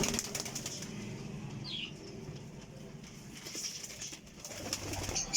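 Flying pigeons coo softly while wings flap in brief flurries, faint and somewhat distant over a steady outdoor background hiss.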